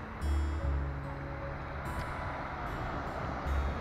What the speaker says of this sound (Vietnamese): bây giờ mình đang ở cái biển Vũng Tàu nha đây là một giờ chiều đây là cạnh biển này